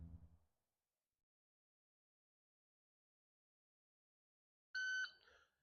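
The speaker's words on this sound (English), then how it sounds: "Once the timer goes off, that will be when you will start shooting the stage." A competition shot timer at a USPSA pistol match gives one sharp electronic beep about a half second long, loud and close, following a brief low murmur and several seconds of silence.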